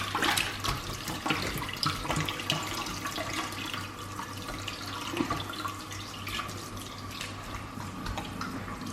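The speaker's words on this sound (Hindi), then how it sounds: "एक दफ़ा फिर मैं पेट को अंदर से धो लेती हूँ।" Tap water runs steadily into a sink while a lamb stomach is rinsed out, a continuous close splashing hiss with occasional drips and the soft thuds of handling, and no voices.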